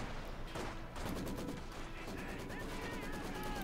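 A mortar barrage in Company of Heroes 2 fills the clip with dense, continuous battle noise: rapid overlapping blasts and gunfire under a loud, steady roar of combat, with game effects layered on top.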